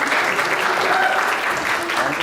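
Loud, close audience applause at a film poster reveal event, a thick continuous roar of many hands clapping with crowd noise underneath.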